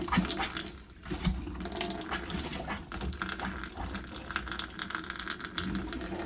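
Cold water running steadily from the faucet of a Rockwood travel trailer, a continuous close splashing gush into the sink with a brief dip near the start and no speech.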